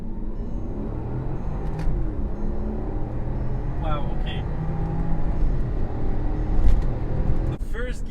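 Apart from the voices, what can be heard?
Porsche Cayenne Turbo S launching from a standstill in first gear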